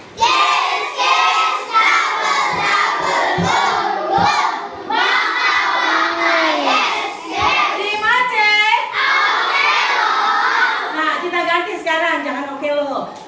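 Children in a coding class chant and clap together in rhythm, loud and close, with shouted voices overlapping sharp hand claps throughout.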